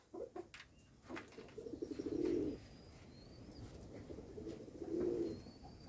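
A rescued wood pigeon chick gives soft, low cooing calls in two drawn-out bursts, close and quiet over faint background noise in a rural setting.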